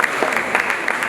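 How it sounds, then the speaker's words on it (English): Audience applause at an event in Uganda, a brief burst of many people clapping with fairly even, dense claps filling just over a second. "A round of applause for you guys."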